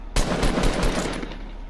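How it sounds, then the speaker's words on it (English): Rapid automatic gunfire in Fortnite, aimed at a wooden box: a burst of about six loud, closely spaced shots that kicks in sharply and then trails off into a fading echo. "aim at this wooden box, and go ahead and shoot it"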